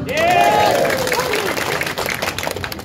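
An audience in a speaking hall breaks into applause, a dense wash of clapping with some crowd noise, steady for about three seconds before easing slightly, with a voice briefly audible over it.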